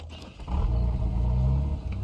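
Car engine in a zombie survival video game, starting up into a steady loud rumbling idle after a brief quieter moment.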